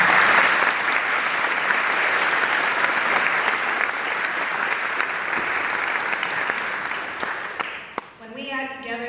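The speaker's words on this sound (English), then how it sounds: "Please give them all a round of applause" Sustained applause from a luncheon audience honoring donors at a United Way of the Flint Hills celebration: dense, steady clapping from a large crowd for about eight seconds, fading out before a voice begins speaking.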